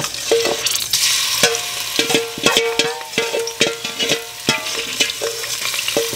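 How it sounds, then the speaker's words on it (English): Garlic fries in a pan for a spicy mango kuchela, giving a steady sizzle broken by frequent clinks and scrapes of a utensil stirring against the pan. The sounds are close and busy, with no voices. "I'm going to fry the garlic a little bit in here"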